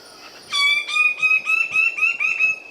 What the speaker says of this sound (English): These are the birds of paradise.